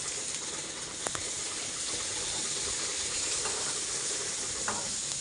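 Onions sizzle and hiss steadily in a hot wok while fish curry with mustard and tomato is cooked, with a few sharp clinks of a spatula against the pan, close and alone with no talk.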